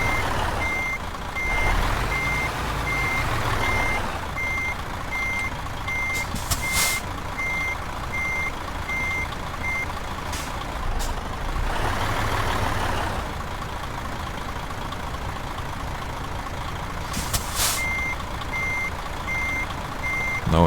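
In Euro Truck Simulator 2, a truck in the Scandinavian countryside backs up. Its reversing alarm beeps in a regular, evenly spaced pattern over a low engine drone, stops for a few seconds, then starts again.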